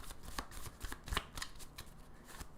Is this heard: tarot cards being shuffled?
yes